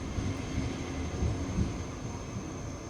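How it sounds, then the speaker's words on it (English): A train pulling away in a video game, a steady low rumble with faint rhythmic clatter, continuous and moderately loud with no voices. "I helplessly watch the train pull away"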